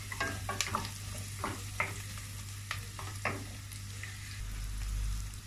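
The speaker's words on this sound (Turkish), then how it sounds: "Havuçlarımı da birlikte biraz soteleyeceğim." Carrots sizzle steadily in a hot pan while a utensil stirs and scrapes in repeated, irregular strokes; no one speaks.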